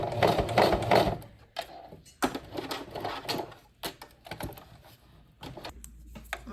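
Sewing machine stitching through two layers of leather for a bag, heard as short rattling bursts of stitching broken by brief pauses, close and fairly loud.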